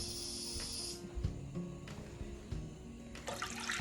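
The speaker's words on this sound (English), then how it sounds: "here I have a saute pan. I'm gonna put 4 cups of water to it" Four cups of water run into a saute pan with a steady low splashing rush under a hissing tone that drops away after a second, close and quiet with small clinks.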